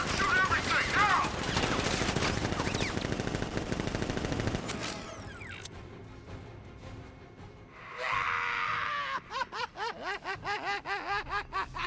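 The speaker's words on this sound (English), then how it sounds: "Open fire! Shoot everything, now!" Militia ambush in a video game: heavy, rapid gunfire bursts at close range fill the first half, then fade into quieter game effects and a string of sharp, pulsing hits, with talk and chuckling mixed in.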